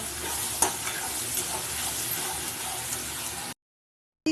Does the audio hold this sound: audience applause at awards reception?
no